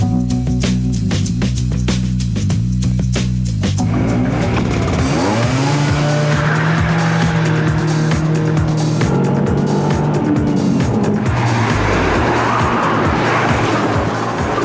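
An Opel Vectra GTS V6 Irmscher sports car revs hard through gear changes, its engine climbing and dropping in pitch, with tires squealing as it corners, loud and close throughout.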